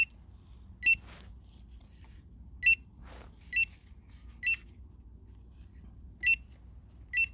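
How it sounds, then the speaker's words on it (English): Short high-pitched electronic beeps from a Phyn water leak sensor alarm, its cable wet, repeating at irregular intervals over a quiet room hum, with a faint rustle in between. "unplugging the cable will stop the alarm"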